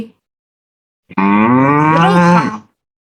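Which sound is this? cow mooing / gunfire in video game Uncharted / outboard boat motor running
cow mooing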